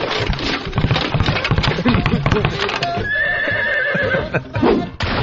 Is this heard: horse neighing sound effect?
yes